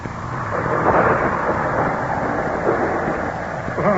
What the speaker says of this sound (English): The storm is increasing again. It sounds almost as if the voice of the heavens is protesting.